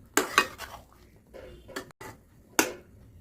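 Metal pan lid lifted off a pan of mushrooms cooking for a bhaji, giving a few sharp clinks and clatters of metal, close and clear with quiet gaps between.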